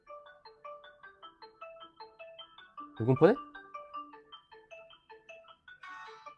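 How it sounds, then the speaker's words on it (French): A telephone ringtone plays a repeating melodic electronic pattern of short tones, fairly clear, while someone speaks briefly in the middle and the ringing carries on around his voice. "Téléphone."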